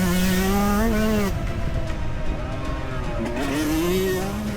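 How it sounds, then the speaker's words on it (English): Yamaha YZ125 two-stroke dirt bike revving hard on a motocross lap over a tunnel jump, engine pitch climbing, dropping and rising again, loud and continuous. "Over the tunnel jump, letting her rev."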